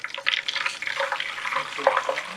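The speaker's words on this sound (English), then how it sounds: "Pour water into the pan" Water pours into a pan for a cake, a soft continuous splashing and trickling stream at moderate level, close by, with no talking.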